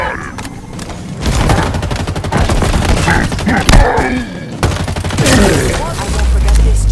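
Halo Infinite combat with rapid automatic gunfire bursts and a heavy grenade blast midway, loud and dense, while shouting voices and battle chatter run underneath.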